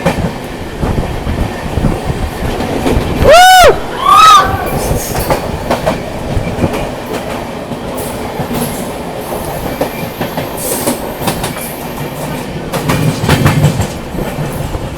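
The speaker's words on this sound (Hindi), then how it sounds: "ये देखो अभी हिमसागर एक्सप्रेस निकल रही है हज़रत निजामुद्दीन से" The Himsagar Express passes through a railway station near Hazrat Nizamuddin, with a steady loud rumble and clickety-clack of wheels and two sharp horn or whistle blasts early on, the passing continuing without talking.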